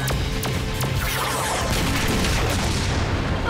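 Several sharp booming blasts in quick succession from a cartoon super mega cannon, followed by a rumbling, crackling wash of explosive noise that fills the remainder.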